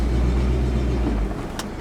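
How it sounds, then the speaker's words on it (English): A truck engine idles steadily up close with a low, continuous rumble that eases off near the end, followed by a brief higher-pitched burst. "At least the truck's running better."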